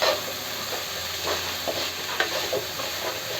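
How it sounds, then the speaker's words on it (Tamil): Onions sautéing in a pan for a fenugreek-leaf stuffed chapathi filling, a soft steady sizzle with a few faint stirring clicks, close but fairly quiet, no voices. "இந்த ஸ்டேஜில் நம்ம வெங்காயம் ஆட் பண்ணிக்கலாம்."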